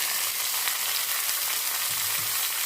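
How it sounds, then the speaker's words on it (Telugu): Chopped onions and green chillies fry in hot oil in a pan, giving a steady, close hiss and crackle throughout with faint stirring sounds. "ఇప్పుడు ఇందులో పెద్దుల్లిపాయ వేసేద్దామండి. ఇప్పుడు పచ్చిమిర్చి,"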